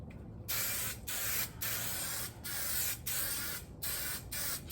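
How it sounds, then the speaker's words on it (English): Spray adhesive hisses from a can onto an upholstered car door panel in a series of about seven close, loud bursts separated by short pauses. "spray this down."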